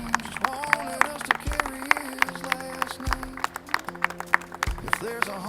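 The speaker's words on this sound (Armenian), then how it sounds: "Ծափահարություններ" Wedding guests clapping after a couple is pronounced married at a ceremony, scattered claps mixed with voices and music in the room.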